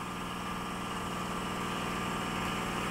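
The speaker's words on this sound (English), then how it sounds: "So right now, my pipe is vibrating. It's because it's sucking water." A water pump's pipe vibrates steadily as it sucks water through a hose on a Gemilai 3200D Pro espresso machine, producing a constant loud hum and buzz throughout.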